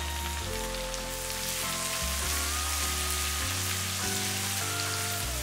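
Green chilies frying in a pan with ginger and asafoetida for a South Indian side dish, a steady dense sizzle like rain on a surface with a low hum running beneath, no speech.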